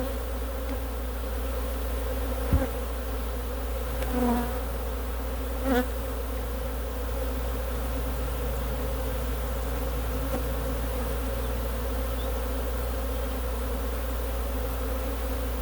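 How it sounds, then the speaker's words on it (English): Honey bees from an aggressive hive buzz steadily and close around a beekeeper's protective suit, a continuous droning swarm with a few louder passes of individual bees near the microphone. "all these bees that are landing on my suit right now, they're stinging me."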